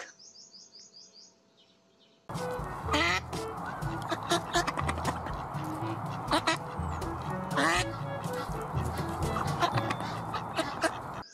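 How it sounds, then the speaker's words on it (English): Ducks quack repeatedly in a busy, noisy chorus with chirping birds mixed in, following a brief quieter opening with faint calls. "Duck."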